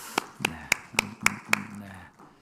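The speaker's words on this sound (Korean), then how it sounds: "우리 하나님께 영광의 박수 올려드립니다" Roughly six sharp claps land in an even, steady rhythm during a Korean Sunday church worship service, with a soft murmur of room sound underneath.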